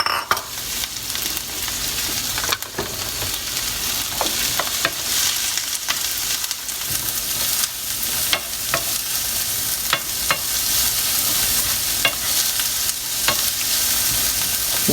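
A chopped yellow onion fries in olive oil, sizzling steadily close by with occasional scraping clicks as it is stirred around the pan, with no voices.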